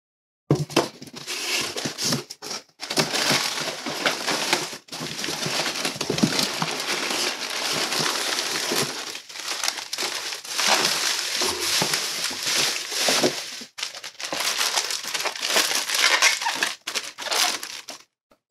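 Bubble wrap crinkles and crackles close by in bursts of rustling as it is packed around books in a box, with short pauses between handling.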